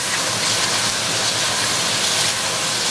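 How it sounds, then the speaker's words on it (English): Steady, loud sizzling hiss of chicken chow mein stir-frying on high heat with sweet soy sauce in a hot pan, continuous and close with no voices. "And you wanna stir fry this on high heat, you guys."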